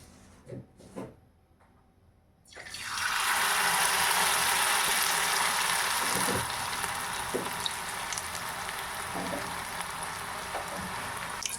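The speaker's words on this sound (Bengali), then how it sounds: "এবার সেদ্ধ করা চাউমিনটা দিয়ে একটা ডিম ফেটিয়ে পকোড়া বানাবো" Chowmein and beaten-egg pakoras going into hot oil: a couple of faint clicks, then a sudden loud, crackling sizzle that stays up close and steady with scattered pops and no talk.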